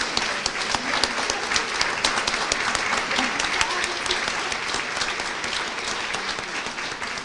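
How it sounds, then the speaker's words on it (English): A standing audience applauds at an awards luncheon, a sustained wash of dense clapping from many hands that holds steady and fades slightly toward the end. "Audience stands and applauds"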